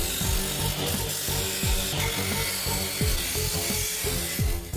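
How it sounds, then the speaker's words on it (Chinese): A wire wheel grinds rust off a WWII 98k bayonet's steel scabbard after soaking, a continuous close abrasive whir with rough scratchy texture, steady in level, over background music. "战哥把它取出来，再用钢丝轮进行打磨"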